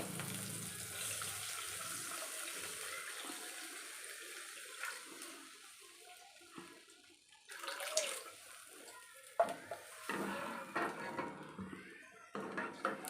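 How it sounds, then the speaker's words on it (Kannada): Cooked lentil (green gram) water is poured into a dish for a North Karnataka dill-leaf curry, a sustained watery pouring and splashing that swells and breaks into sloshing bursts toward the end, with no talking. "ನಾವು ಬೇಯಿಸಿಟ್ಟಿರೋ ನೀರಿದೆ ಅಲ್ವಾ ಈ ನೀರನ್ನ ಆ್ಯಡ್ ಮಾಡ್ಕೊಳ್ಳಿ"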